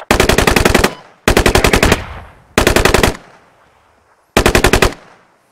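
Machine gun fire in the video game Squad during a competitive match: four loud, close bursts of rapid automatic shots, each about a second long with short echoing tails, separated by brief pauses.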